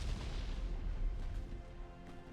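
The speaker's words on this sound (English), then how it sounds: "It looks like the BBs are firing high explosive." Battleship main guns firing high-explosive shells in Ultimate Admiral Dreadnoughts, set in 1906: a deep, rumbling naval boom rolling out loud and heavy, with no voices over it.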